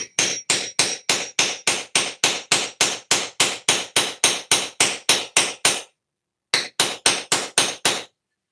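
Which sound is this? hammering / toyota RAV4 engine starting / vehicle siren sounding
hammering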